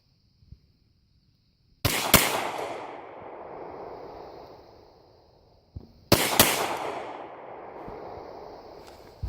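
Two loud handgun shots from a Glock pistol ring out about four seconds apart, each a sharp crack followed by a long echoing decay across an open shooting area, with a few faint clicks between.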